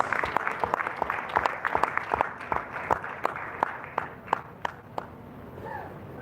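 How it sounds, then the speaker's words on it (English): Audience applause at a travel awards gala in Nepal, a steady burst of many hands clapping through the hall that thins toward the end. "Let's put our hands together and give him a round of applause."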